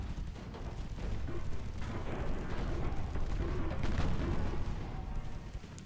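Warship secondary guns, small 2-inch guns, fire in the naval game Ultimate Admiral Dreadnoughts as a dense, continuous rumble of overlapping booms and blasts, loud and steady with no talk.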